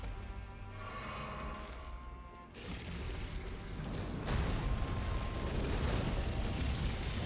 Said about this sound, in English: And fire breath.